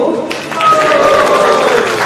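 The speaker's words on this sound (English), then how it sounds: "Can you have a loud Haribol and a loud round of applause?" Audience at a live devotional concert for Sri Narasimha Jayanti breaking into a loud, sustained round of applause and cheering that swells and holds after a brief pause.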